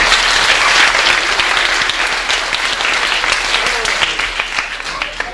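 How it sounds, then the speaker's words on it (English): A theatre audience at a 1994 Island Treasure show claps loudly and steadily, with dense applause filling the whole stretch and no voices on top. "give me a round of applause anyway"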